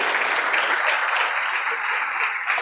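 A church congregation applauding during an evening service, a dense, steady wash of many hands clapping together throughout, close and fairly loud with no break.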